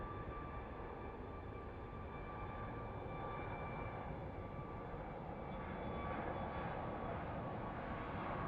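Airliner departing Phoenix Sky Harbor airport at night, a steady broad jet roar heard from a distance that slowly swells louder toward the end, with no voices.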